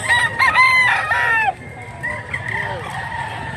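A bullstag rooster with blue legs and grey plumage crows once, loud and close, with a long wavering call in the first second and a half, followed by softer clucking and outdoor background noise.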